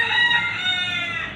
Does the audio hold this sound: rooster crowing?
yes